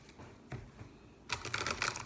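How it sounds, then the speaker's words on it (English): An Archangel Oracle card deck being shuffled: after a quiet stretch with a soft tap, a dense, crisp riffling burst of cards rises and runs to the end, fairly close and moderately loud. "So I'm going to shuffle this Archangel Oracle deck"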